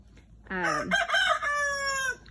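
A backyard farm hen gives a loud, drawn-out squawking cackle close by. It starts with a quick rising note, then breaks into a wavering, complaining call that lasts about one and a half seconds before it fades.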